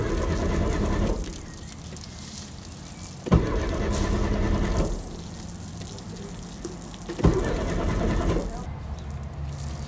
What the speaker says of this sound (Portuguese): Você pode dar na partida aqui quantas vezes você quiser que ele não vai ligar.